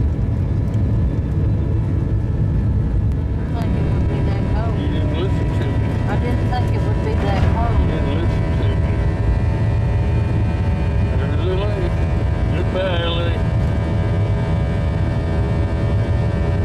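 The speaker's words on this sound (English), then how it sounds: "And then we're cleared for takeoff and away we go." A Boeing 737-900 airliner takes off with a loud, steady engine roar and rumble heard from inside the cabin, with tonal whine rising over the sustained noise and a voice talking over it.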